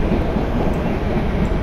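A WAP 7-hauled Rajdhani Express thunders past at a crossing in an Indian railway simulator game, a loud, continuous rumbling roar with no talk.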